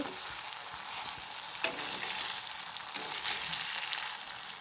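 Spices sizzling and frying in a pan for a jackfruit curry, a steady close hiss and crackle with occasional stirring scrapes, no voices.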